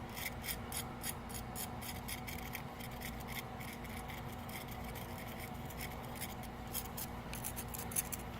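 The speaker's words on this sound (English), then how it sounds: "Just going to scrape off the sand." Casting sand being scraped off a freshly cast silver coin with quick repeated scratchy strokes, close and fairly quiet, a continuous rasping rhythm with no talk.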